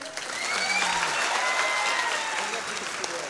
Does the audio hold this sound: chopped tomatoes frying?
no